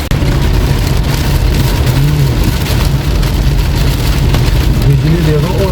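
Heavy monsoon rain drums loudly and steadily on a car on the road from Haridwar to Rishikesh, a dense patter over the low hum of a running engine, with occasional voices underneath.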